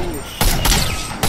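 Sniper rifle shots in the game Fortnite, two sharp loud bursts about a second apart, the first longer, over a quieter game background.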